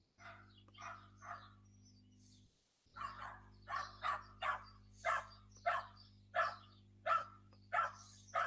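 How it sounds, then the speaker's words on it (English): A dog barks repeatedly out in the street, a run of about a dozen evenly spaced barks at moderate distance after a brief pause, with a faint steady hum underneath. "yes, the dog is in the street"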